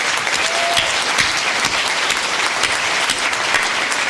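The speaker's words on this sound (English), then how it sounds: "Let's give all of our speakers another round of applause" Applause for the speakers at a charity circle's grant awards event, a full, even wash of clapping from a sizable audience that holds steady without pause.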